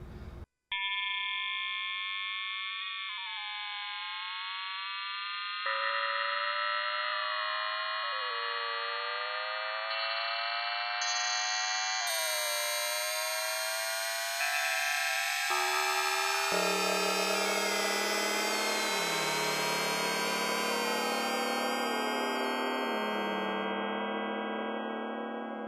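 A Technos Acxel additive resynthesizer sounds long, evolving synthetic tones under a slow envelope, layered pitches stepping and gliding upward and downward as harmonics shift, sustained and fairly loud for over twenty seconds without any speech.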